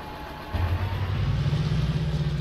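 A heavy tractor engine in Farming Simulator, carrying a three-point mounted planting rig, idles with a low steady drone that deepens and strengthens about halfway through as it pulls the load.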